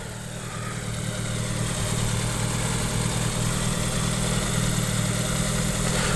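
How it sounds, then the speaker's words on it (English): A classic car's 933cc, 8 horsepower (RAC rating) engine idles steadily and smoothly, a loud close continuous rumble with no talk over it. "that's one very happy sounding engine, all 8 horsepower, RAC rating"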